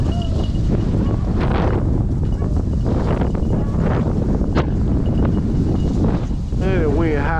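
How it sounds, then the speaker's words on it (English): Very high wind buffets the microphone outdoors during a rabbit hunt, a loud continuous rumbling roar that lasts the whole clip, with a brief voice near the end. "We got some real high wind, y'all."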